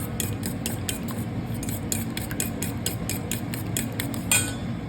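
Spoon or fork rapidly clinking and scraping against a bowl while seasoning is mixed, a steady run of bright metallic taps over low background hum.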